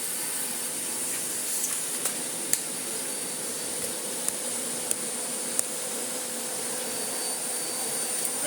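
Miele Blizzard CX1 vacuum cleaner running steadily, a constant airy whooshing drone with a few small ticks of debris being sucked up, close and alone.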